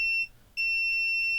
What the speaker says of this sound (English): if we go on one side of this cap, we get a beep